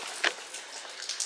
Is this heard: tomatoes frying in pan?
no